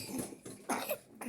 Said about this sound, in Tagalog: Nako, may mga ubo pa pala mga anak mo.